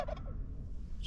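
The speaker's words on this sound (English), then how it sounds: "wild turkeys will gobble in response to a loud noise like a horn honk or" Wild turkeys gobble once, fairly faint and distant, from open high plains country by a dam lake on the Pecos River, a short rattling burst that quickly fades into quiet outdoor ambience.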